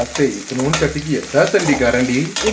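Onions and green chilies sizzle in a hot pan, with a steady frying hiss under a person talking throughout.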